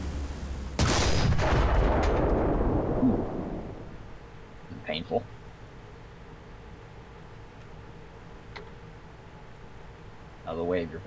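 A heavy artillery blast in the tank battle game War Thunder booms loudly near the start and rumbles away over a few seconds, followed by a couple of fainter thuds, quiet engine hum and a short voice near the end.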